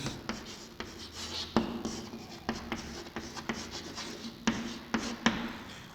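A teacher writes a sentence during an English grammar lesson, with quick, close scratching strokes in an uneven rhythm of short taps and drags and no talk over them.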